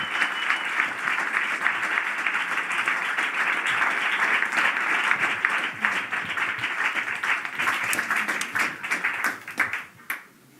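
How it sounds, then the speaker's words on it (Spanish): Sustained applause and clapping from an audience at a live humor-and-science comedy talk, a thick wash of hands that holds steady before thinning into a few scattered claps and fading at the end. "Fuerte el aplauso."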